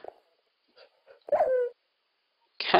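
Several short dog whimpers and yips from a Minecraft wolf, quiet and spaced out with gaps of silence between them, followed by a sudden louder burst of game noise at the end.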